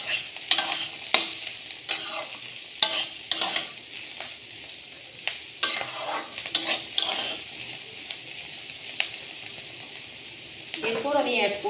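Kakrol (teasel gourd) and potatoes stirred in a frying pan with chilli powder, a steady sizzle broken by repeated sharp scrapes and clacks of the utensil against the pan, close and fairly loud, with no talking.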